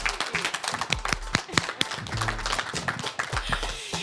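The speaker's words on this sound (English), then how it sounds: "And a round of applause for Kirsty for organising all of this." An audience at a science talk night in a club applauds, a dense burst of many hands clapping close by and filling the whole moment, with no speech over it.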